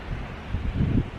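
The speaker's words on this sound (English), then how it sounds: "As you can tell, it's windy." Steady wind gusting across an open microphone on the Isle of Mull at Tobermory, a constant low rumble and buffeting that swells toward the end, with no other sound over it.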